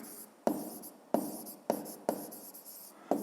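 Pen writing numbers by hand on paper, a close scratchy scribble broken into short strokes that each start with a sharp tap, repeating about five times.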